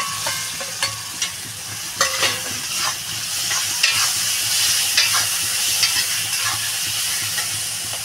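Tomato with turmeric and salt stirred in a frying pan, a steady sizzle punctuated by repeated sharp scrapes and taps of the spatula against the pan.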